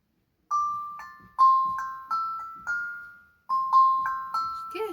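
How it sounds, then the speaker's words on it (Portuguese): Mellow, bell-like metallic notes from a tongue drum struck one at a time in an unhurried melody, each ringing and decaying before the next. "Uma mistura da panela com um xilofone."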